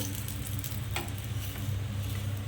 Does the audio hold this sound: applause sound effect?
no